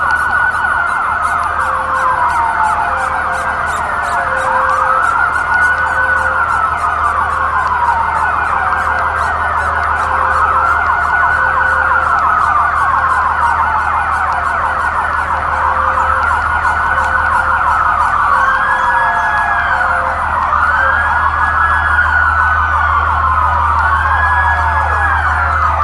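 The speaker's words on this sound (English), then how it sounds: "it really feel like they're using LRAD, and that's more than sirens" Sirens wail at a Seattle street protest, loud repeating rising and falling sweeps layered over a steady electronic tone, continuous and close with no talk.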